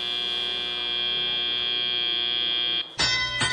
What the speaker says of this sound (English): And with the buzzer and bell, we go into our teleoperated period.